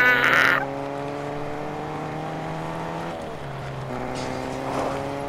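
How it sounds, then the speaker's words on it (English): Camper van driving in Fortnite, a steady engine drone with sustained tonal harmonics that dips and shifts pitch partway through, heard alone with no talk. "let's go see if we can try and ride the camper vans"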